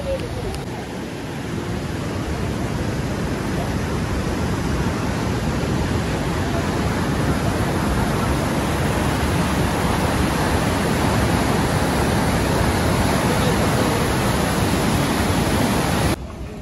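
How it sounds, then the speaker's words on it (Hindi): A fast-flowing mountain river on the route to Kedarnath rushes as a loud, continuous broadband roar, steady and close for the whole stretch, with a voice only faintly present under it. "देखिए यार क्या स्पीड है यार पानी का"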